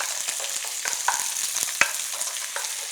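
Onion and green onion are stir-fried in a pan for spicy stir-fried octopus. A steady soft sizzle carries light scraping and stirring knocks, heard up close.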